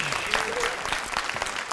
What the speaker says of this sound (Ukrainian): Ваші оплески, ваші Олечка Сумська